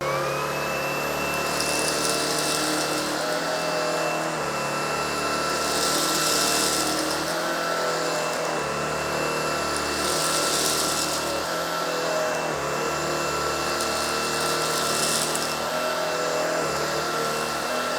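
A Shark PowerPro cordless vacuum cleaner runs with a continuous high motor whine and airy rush, nearby and steady, its suction noise swelling and easing in a few passes.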